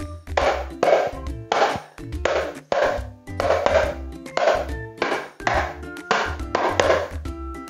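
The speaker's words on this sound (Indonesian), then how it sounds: "Nah, itu adalah suara keprak dari sini ya." New keprak percussion instrument for a hadroh set being struck repeatedly, sharp bright wooden-metallic hits in a steady rhythmic pattern of paired strikes, close and fairly loud with no talk.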